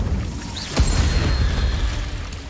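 An Incendio fire spell in Hogwarts Legacy bursts with a sharp whoosh and a booming flare of flame, followed by a sustained crackling rush that fades slowly.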